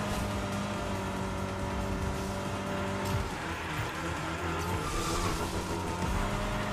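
Rocket cars racing in Fortnite Rocket Racing, a steady loud engine whine with tire squeal and skidding, cars rushing past up close with a brief shift in pitch midway.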